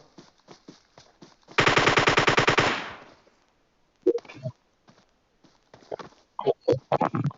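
An M249 machine gun in the PUBG Mobile video game fires one loud, rapid burst of a little over a second. Scattered shorter game noises and thuds come before and after it.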